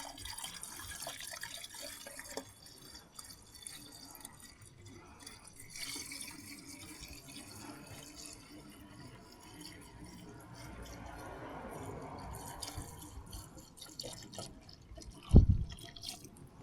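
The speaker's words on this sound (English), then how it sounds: "I can hear all that coolant going down." Faint trickling and dripping of premix coolant draining steadily out of a Mercedes-AMG engine during a Bosch 010 pump fix, with soft background noise and a sudden knock near the end.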